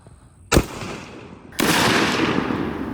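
Two loud 12 gauge bullpup and AR-style shotgun blasts aimed at fruit, a sharp crack followed by a second report that leaves a long, rumbling echo trailing off, heard outdoors at close range.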